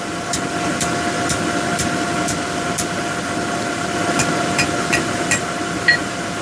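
A steel tent stake struck on an anvil in a beginner blacksmithing forge: a series of sharp, ringing hammer blows at an even pace, then a short pause and another quick group, over a constant background hum.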